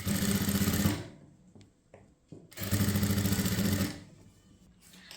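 A sewing machine runs in two quick bursts of rapid stitching along folded kurti fabric, loud and close, with a pause and faint handling noises between them.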